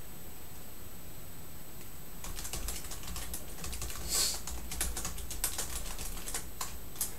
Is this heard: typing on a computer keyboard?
yes